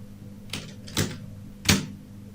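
Three sharp, separate key clacks come from a computer keyboard while someone types text into a PowerPoint flyer, close up against a quiet room.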